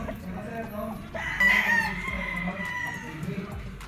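An Elgama gray straight comb gamefowl rooster crowing once, a clear drawn-out crow at moderate distance, amid a gamefarm's background clucks and murmuring voices.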